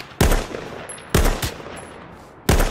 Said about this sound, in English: Someone's shooting from southeast somewhere.